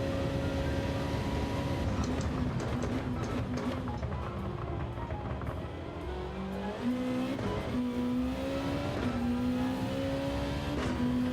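Race car engine in Gran Turismo 7 holds a steady loud drone throughout, its pitch rising and falling with gear changes, joined by tire squeal, with no talk over it.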